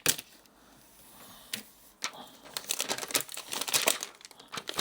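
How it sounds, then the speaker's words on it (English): The tab of a Prism 2.0 screen protector film for a Nintendo Switch 2 is pulled away, with close crinkling and crackling plastic peeling that starts as sparse clicks and builds into a dense, rapid crackle. "and then you're literally going to pull the tab."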